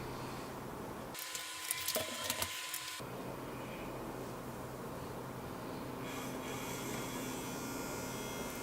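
An MSX FD-A1ST floppy disk drive starts up after power-on, giving a brief burst of mechanical whirring and clicking with a faint steady hum afterwards, close and quiet.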